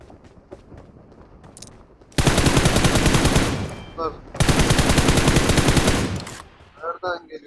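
Automatic gunfire in the mobile battle royale game PUBG Mobile, two long, loud sustained bursts of rapid shots, each lasting about two seconds, with quieter in-game sounds between and after them.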